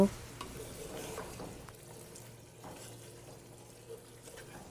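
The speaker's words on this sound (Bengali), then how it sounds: "এখন আমি মশলার সাথে মাংসগুলোকে ভালোভাবে নেড়ে চেড়ে মিশিয়ে নেব" Beef pieces are stirred into a spice paste in a pot, giving soft, wet, squelching stirs with a faint sizzle underneath, close and fairly quiet.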